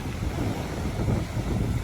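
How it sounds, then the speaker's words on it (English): Steady wind buffets the microphone at a beach campsite, a loud, continuous low rumble with no other sounds coming through. "Sorry about the wind"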